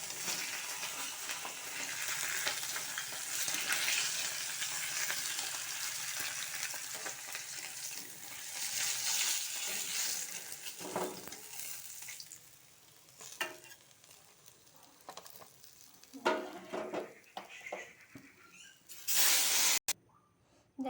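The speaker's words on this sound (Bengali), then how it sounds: "দেখো মাছগুলো ভাজা হয়ে গিয়েছে, আমি তুলে নেব।" Pieces of snakehead (shol) fish fry in hot oil in a pan, giving a steady sizzle with stirring and scraping that turns fainter and more broken after the first half, and a short sharp burst near the end.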